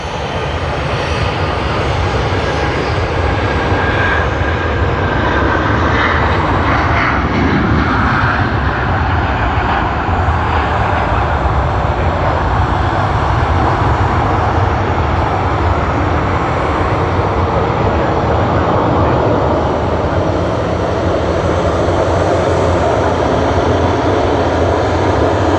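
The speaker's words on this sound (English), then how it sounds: "Sydney to Tokyo Haneda service on JL52 with the One World Livery Japan Airlines. They have begun their takeoff roll." A Japan Airlines jet in oneworld livery, flight JL52 from Sydney Airport to Tokyo Haneda, roars through its takeoff roll, a loud, unbroken engine rumble and whine sustained for the whole stretch.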